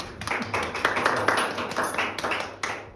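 An audience at an art exhibition applauds with a brief spatter of hand claps. The irregular claps run over a room murmur, with a voice faintly in the background.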